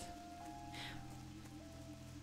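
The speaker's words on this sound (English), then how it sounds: "They add like weather effects? I don't remember it being so rainy and classic." Dense, steady rain pours as a weather effect in World of Warcraft Classic, a continuous wash of drops with a brief brighter splash of spray near the middle, no voices over it.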